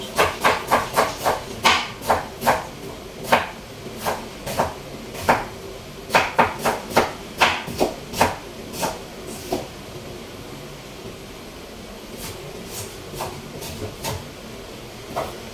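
A knife chopping onion and garlic on a board, a run of crisp, evenly spaced taps, some quick and clustered, pausing midway and then resuming more sparsely and softly.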